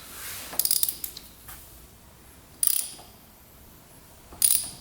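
A 17 mm ratchet turns over the engine of a cheap street-legal dirt bike, making three short bursts of quick metallic clicking close by, separated by quiet pauses.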